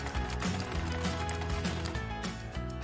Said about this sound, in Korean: 다시 재봉틀로 고고싱!